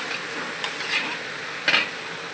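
Vegetables frying in a pan for masala poha, a soft steady sizzle with a few light stirring scrapes and clinks, close and without talk.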